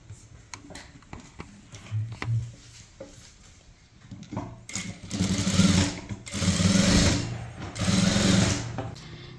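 A sewing machine stitching a kurti: first scattered clicks and handling noises, then loud close bursts of rapid mechanical whirring in several runs, with no talk.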